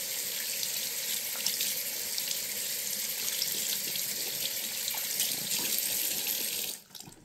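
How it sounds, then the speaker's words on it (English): Tap water pours steadily into a sink while something is rinsed under it, a continuous close hiss that runs without a break and then cuts off just before the end. "Let's rinse it."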